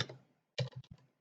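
Keys on a computer keyboard clack in a short quiet burst, a couple of taps followed by a quick cluster of clicks after a brief pause.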